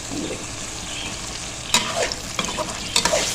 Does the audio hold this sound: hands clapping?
no